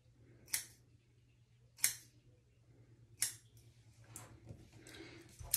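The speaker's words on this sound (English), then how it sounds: "Now I'm going to start cutting and start trimming." Scissors snip through hair during a trim, three distinct sharp cuts spaced about a second apart, followed by softer rustling snips, close and fairly quiet over a low steady hum.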